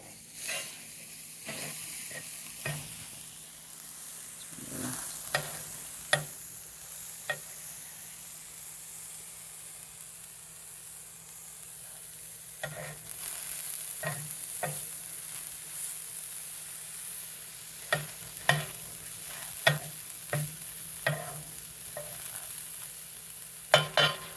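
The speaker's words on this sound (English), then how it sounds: "now that that is sizzling" A steady, soft sizzle of peppers frying in a pan, with occasional clicks and scrapes of stirring throughout.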